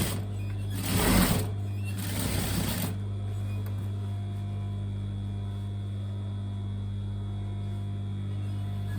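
A home sewing machine stitching down a seam on a fitted fifties-style pencil skirt, two short bursts of rapid needle chatter over a steady mains hum, followed by quiet motor hum.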